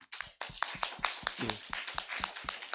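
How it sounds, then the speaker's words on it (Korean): A church congregation claps in praise to God, a close, rhythmic run of roughly a dozen evenly spaced claps. A brief spoken word is heard at the start. "하나님께 영광의 박수."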